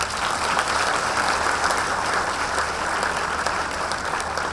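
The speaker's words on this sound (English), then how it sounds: "A big round of applause." Steady, full applause from an audience at a science fair special awards ceremony, continuous and fairly loud throughout with no talking over it.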